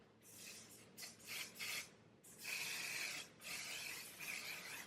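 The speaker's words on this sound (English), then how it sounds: "I try so hard not to breathe when I spray it because it's like an aerosol can" Aerosol setting spray misted onto a made-up face, heard as several close, breathy hissing bursts of uneven length, with short gaps between them and no talking.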